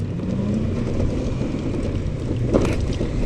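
Emoto Renza electric motorcycle accelerating, a steady low road-and-wind rumble with a faint rising motor whine and a brief louder knock near the end, no talking.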